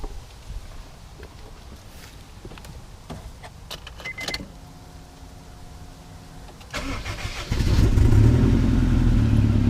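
A turbocharged Honda CR-V engine with a blown-off hose cranks with clicks and a whine, then catches and settles into a loud, steady idle close by.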